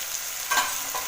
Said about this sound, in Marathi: सगळ्या भाज्या घ्यायच्या, चांगल्या आता परतून घेऊया. जरा फास्ट गॅसवरती परतायचा